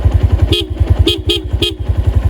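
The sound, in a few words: Honda Tiger Revo motorcycle horn honking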